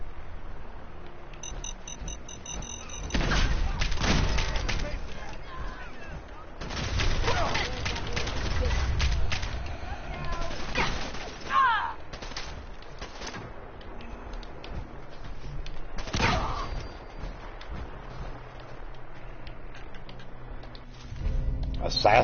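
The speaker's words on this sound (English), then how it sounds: "Assassin's hunting rifle." Assassin's hunting rifle firing in Fallout 4, a few sharp shots spaced apart amid game ambience, with a voice talking over parts of it.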